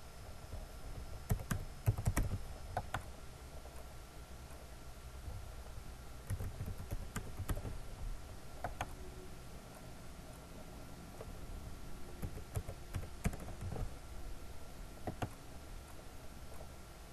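Quiet, close tapping on a computer keyboard as a captcha is entered, with irregular bursts of key clicks and short pauses and no speech.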